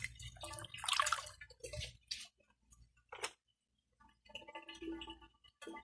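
Hands are washed under running tap water in a bathroom. Quiet, close splashing comes in irregular bursts, with brief pauses and dripping in between.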